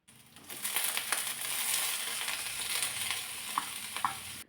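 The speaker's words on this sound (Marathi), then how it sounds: "थोड्या वेळ हे परतून घेतलं आणि त्यानंतर मग एकदम बारीक असा चिरलेला फ्लावर घातला." Finely chopped cauliflower and other vegetables sizzle and crackle in a hot pan. The steady frying carries on throughout with occasional stirring scrapes and light clinks.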